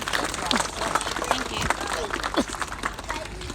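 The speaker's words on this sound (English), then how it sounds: "if we can give Tina another round of applause" An audience at the Sunbury Underpass community day applauding: a steady wash of clapping from a crowd throughout, with people talking over it.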